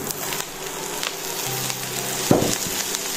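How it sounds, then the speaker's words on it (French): Sliced leeks tipped into a pan where onion is already sweating, giving a soft continuous sizzle with a few scraping stirs and one sharp clack near the end, close and moderately quiet. "J'ajoute mes poireaux"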